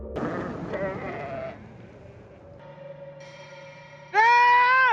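Sheep bleat among a herd of livestock: several wavering bleats, the last one loud and close and held for about a second, with a bell-like tone sounding in between.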